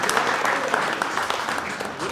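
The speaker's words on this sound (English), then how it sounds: "if you don't mind giving one more round of applause for this time, Mr. William Rolack." Applause rises from the crowd at a Long Island team announcement press conference, a steady dense wash of clapping lasting a couple of seconds at moderate loudness with no voices over it.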